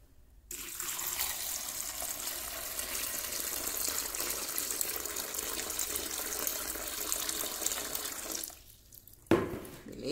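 About 1.8 litres of water pours steadily from a container into a bowl for homemade wallpaper paste, a continuous close splashing gush lasting several seconds before stopping, followed by a brief knock.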